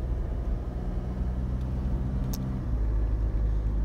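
Heavy traffic moves along a busy road in the Parañaque–Antipolo area. Car engines and tyres make a continuous close rumble with no talk.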